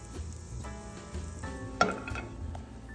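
Diced potatoes seasoned with paprika, onion and garlic powder crisp in a pan over medium heat, a steady close sizzle with a brief clink of a utensil against the pan.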